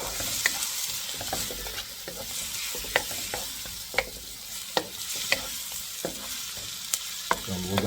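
Butter melts and sizzles in a pan with beef, a steady close frying hiss broken by scattered crackles and pops, with no talking.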